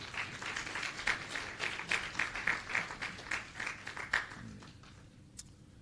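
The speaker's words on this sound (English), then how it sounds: "So we just like to give them a round of applause" An audience at an annual general meeting claps together in a steady rhythmic burst lasting several seconds, moderately loud, then fades out into quiet.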